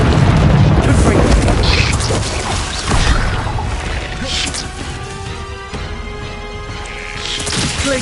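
Heavy fiery blasts from the Confringo spell in Hogwarts Legacy, several booming bursts and crashes in quick succession, loud and close, with softer rumbling between impacts.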